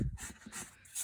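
Pencil guiding lines on a two-point perspective drawing rubbed out with an eraser, giving short, soft scrubbing strokes close by, alone and fairly quiet.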